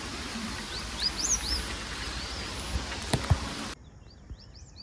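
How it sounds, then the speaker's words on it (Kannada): Birds at a lake give a few short, high chirps over a steady rushing outdoor background that cuts out abruptly near the end, leaving one faint last call. "ಅಲ್ಲಿ ಎಲ್ಲ ಹಕ್ಕಿಗಳೆಲ್ಲ ಸ್ನಾನ ಮಾಡ್ತಾ ಉಂಟು."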